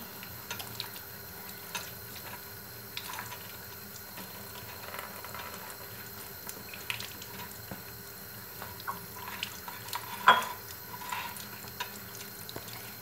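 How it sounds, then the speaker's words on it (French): An item is rinsed under a running tap, a soft continuous water stream with faint splashes and a clunk partway through, fairly quiet and close. "je continue de le laver, enfin, plutôt de le rincer"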